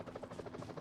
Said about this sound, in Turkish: Helikopter.